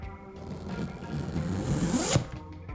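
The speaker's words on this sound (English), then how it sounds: "They say these zippers are YKK Excella zippers, which are the Rolls Royce of zippers." A YKK Excella zipper on a duffel bag being pulled open in one long, rising zip that ends with a sharp final tug, close and clear with no talk.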